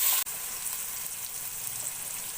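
Tomatoes fry in a pan after garlic for a restaurant-style egg gravy, giving a steady, even sizzle after a brief dropout at the start.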